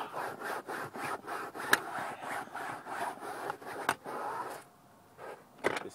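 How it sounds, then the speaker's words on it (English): A car seat being scrubbed by hand with a homemade air freshener: a close, rhythmic back-and-forth rubbing in regular strokes, with a couple of sharp taps and a brief pause near the end, no talk. "go ahead and scrub it"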